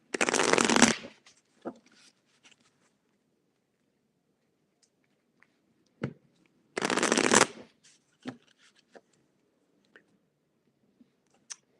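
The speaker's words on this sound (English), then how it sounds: "I'm going to shuffle a lot because it seems a lot of the same cards are coming." Tarot cards being shuffled by hand, two brisk riffling bursts of about a second each, separated by quiet pauses with scattered soft taps and clicks.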